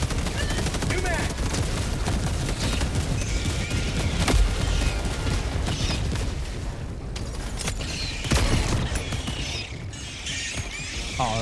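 A railgun fires in a video game amid nonstop loud, crackling gunfire and mechanical clatter, with a few sharp, heavier blasts standing out above the dense barrage.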